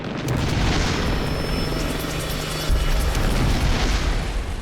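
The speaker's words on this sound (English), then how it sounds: "A hidden Iraqi tank is pounding the Lynx with shells." Tank shells bursting near a British Lynx helicopter under fire from hidden Iraqi armour, a dense roar of rotor and engine noise with heavy booms and a sharp low thump midway, loud and continuous.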